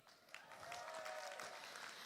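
Graduates at a postgraduate business school commencement ceremony applaud and cheer. The faint, distant crowd clapping builds quickly and then holds as a steady patter, with no speech over it.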